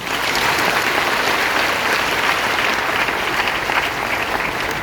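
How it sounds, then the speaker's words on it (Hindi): A crowd at a DXN business seminar breaks into loud, sustained applause, a steady roar of many hands clapping close by throughout. "इसके लिए बहुत बड़ी ताली होनी चाहिए।"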